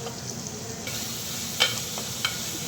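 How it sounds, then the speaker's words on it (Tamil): Shallots frying in oil for a mutton kolambu, a steady low sizzle running throughout with a couple of sharp stirring clinks near the end, no voices. "அதை சேர்த்துட்டு கொஞ்சம் நல்லா கோல்டன் ப்ரௌன் கலர் வர்ற வரைக்கும் நம்ம வறுத்துக்கலாம்."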